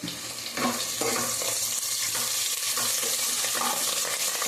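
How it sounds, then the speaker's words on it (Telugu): Tempering of fenugreek seeds and curry leaves frying in hot oil, a continuous close sizzle with scraping stirring strokes over it, no one talking. "ఇప్పుడు బాగా కలుపుకొని తిప్పుకొని వేయించుకుందాం"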